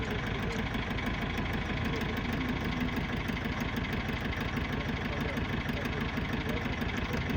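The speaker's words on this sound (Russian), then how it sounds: "Короче, двигатель колышется нехило так." Cummins ISF 2.8 diesel in a Gazelle van idles roughly, with a steady loud knocking, shaking rumble running unbroken throughout, and speech faintly mixed in.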